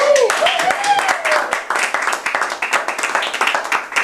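An audience at a Toastmasters meeting claps in a steady round of applause, fairly close, with a voice speaking over the start.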